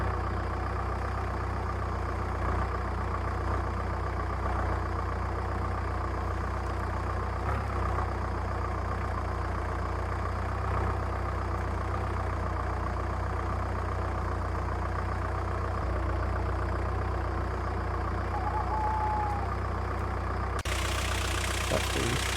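A car engine idling in the survival video game Survive The Nights, a steady low mechanical hum held evenly at a fairly quiet level, ending in a sudden cut near the close.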